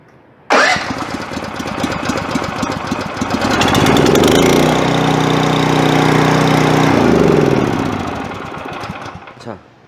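MB snow blower engine cranked with the choke closed and key turned, catching abruptly and settling into a loud, steady close-up running drone that fades near the end.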